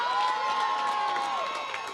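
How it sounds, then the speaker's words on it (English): A crowd roars and cheers continuously at an under-15/under-17 girls' rugby union interstate junior match between Tasmania and South Australia, a dense sustained wash of shouting with some children's voices and scattered clapping. "And the crowd has gone crazy over here."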